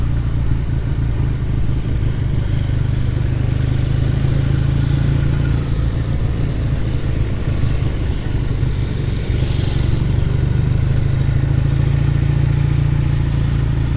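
A classic motorcycle engine runs steadily while being ridden at a national motorcycle event, a loud, continuous low rumble that holds through the whole stretch without pause.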